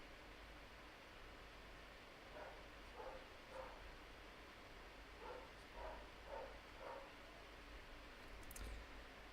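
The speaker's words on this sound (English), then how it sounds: "If you guys hear those dogs barking in the background" Dogs at a rented holiday home bark faintly in the background, giving a few short clusters of yaps spread over several seconds beneath a steady hiss of room noise.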